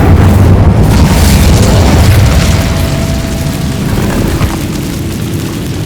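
A fire spell blast in Hogwarts Legacy: a loud, sustained roaring boom that fills the whole clip and slowly tapers off, with no talking.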